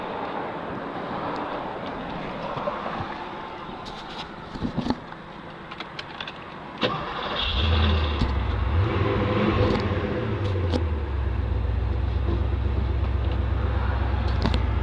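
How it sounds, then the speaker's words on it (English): A 1980 Porsche 928 V8 cranks and catches partway through, then settles into a steady, deep idle rumble close to the microphone, after some quieter handling noise and wind buffeting at the start. "Let me go ahead and start this beauty up for you."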